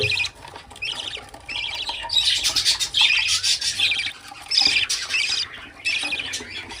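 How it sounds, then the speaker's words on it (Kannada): Several caged pet birds of a new breed squawk in repeated bursts, shrill and fairly close, with short gaps and faint rustling in between; no one speaks. "ಈ ಕೇಜಲ್ಲಿ ಒಂದಷ್ಟು ಬರ್ಡ್ಸ್ಗಳಿದ್ದಾವೆ"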